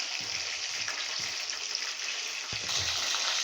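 Chicken pieces for brown stew fry in a pan with a steady, close sizzle and crackle, broken by faint stirring bumps and a few soft knocks.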